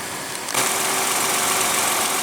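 A 2015 Lexus ES350 with Toyota's 3.5-liter V6 idles with a smooth, steady hum under the hood, rising slightly after a brief click at the start and holding even, with no talking.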